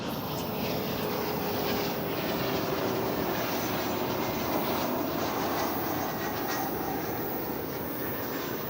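An airplane at DFW Airport produces a steady, loud jet roar that fills the whole stretch without break, a broad continuous rush with no talking over it.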